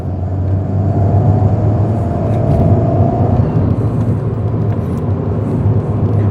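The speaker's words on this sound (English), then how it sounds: "That turbo comes on quick, even mid-range, so it's actually got really good torque" A turbocharged Alpine A110 engine pulls through the mid-range from inside the car, a loud, steady low rumble with a rising whine that holds for several seconds.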